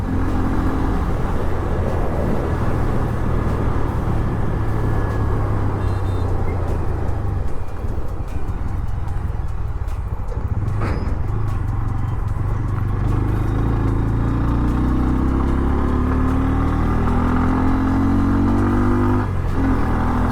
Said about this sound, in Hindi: भाई साउंड सुन सकते हो इसका, काफ़ी ज़्यादा अच्छा आ रहा है।